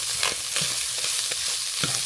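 Seasoned meat frying in a pan with rendered fat, a steady loud sizzle broken by periodic scraping thumps as it is stirred, close up with no talking.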